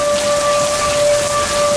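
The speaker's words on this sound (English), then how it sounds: "You can't see anything coming from the heavy rains" Heavy rain in a tornado-warned storm with whiteout conditions, a dense steady roar of downpour filling the whole clip with no pauses, accompanied by a faint steady tone.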